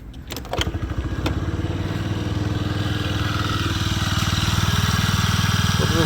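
A used Honda Dio AF62 scooter in good condition runs close by, its small engine holding a steady, even idle with a continuous buzzing throb for the whole stretch after a brief start.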